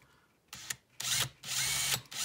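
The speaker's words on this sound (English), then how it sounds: "you'd drill through that neck so easily" A power drill bores through the wooden neck of a Fender Brad Gillis guitar during a Floyd Rose installation, whirring in several close, loud bursts of rising length with short pauses between.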